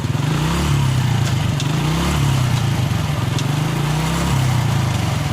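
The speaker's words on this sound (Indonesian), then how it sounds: "Kalau misalnya motornya lagi jalan kayak gini" A 1997 Honda Astrea Grand motorcycle engine runs steadily while riding in top gear, a loud, continuous low putter with slight rises and falls in pitch and no talk over it.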